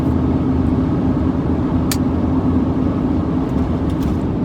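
A car engine idles steadily just after starting, with a loud continuous low rumble and constant hum filling the cabin. A brief higher click sounds near the middle, and no one speaks.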